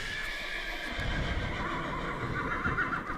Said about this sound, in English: A horse. A horse. A horse.